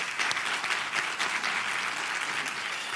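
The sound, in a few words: audience round of applause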